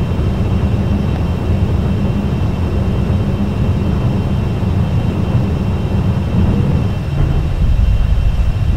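A loud, steady roar of an NF-104 Starfighter jet engine climbing just after liftoff in a flight simulator game, a broad continuous rumble that dips briefly near the end before surging again.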